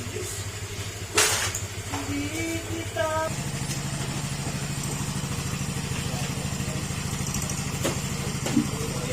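A Honda Click 125 scooter with a fresh water pump idles nearby in a steady, throaty low pulse like a big bike, with a few clicks and brief tones over it early on.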